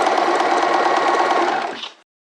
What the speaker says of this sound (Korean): 여기 놓고 재봉을 합니다.